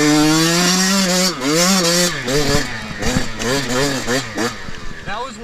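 2021 Yamaha YZ125X two-stroke dirt bike engine lugging slowly in second gear, a close, rough low buzzing drone whose pitch sags and rises unevenly as the throttle is blipped, with a voice talking over it.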